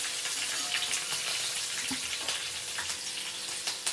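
Chili pieces frying in hot oil for poha chivda give a steady, close hiss and crackle with small pops scattered throughout, no speech.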